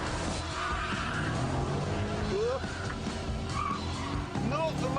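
A powerful car with an unusually large engine mounted low and far back drives hard with tires skidding and squealing, engine roaring steadily throughout, with a voice speaking over it.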